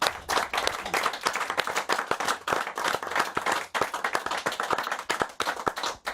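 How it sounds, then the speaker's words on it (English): Close, crisp hand clapping from a modest group applauding a guest, with distinct individual claps forming a dense, fairly even patter and no talking over it. "So give Marcus Stewart a big round of applause."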